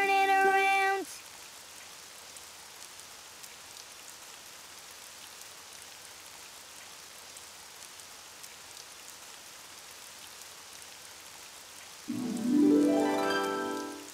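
Continuous rain hiss fills the scene at moderate level, with short bursts of music at the beginning and end.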